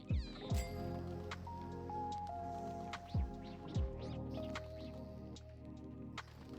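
Kitten creatures in the Don't Starve Together video game meowing repeatedly, several short high cat cries scattered through, mixed with game music and chimes at moderate loudness.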